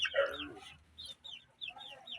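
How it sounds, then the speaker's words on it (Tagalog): Chickens clucking close by in a yard, a louder burst of squawking followed by a run of short, evenly spaced clucks, with no talk over them. "Kawawa yung mga manok pre."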